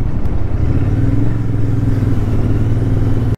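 A motorcycle engine runs steadily and loudly up close at a highway toll gate, a continuous low droning hum throughout with no other sounds on top.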